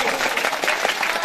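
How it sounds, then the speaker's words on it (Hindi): A crowd at a village panchayat gathering bursts into loud, sustained applause, a dense wash of clapping that fills the whole moment with no break. "ताली बजाइए एक बार जोरदार।"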